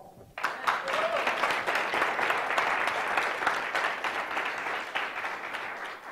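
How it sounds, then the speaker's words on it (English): A crowd bursts into loud, sustained applause that swells quickly and carries on for several seconds before tapering slightly. "Applause."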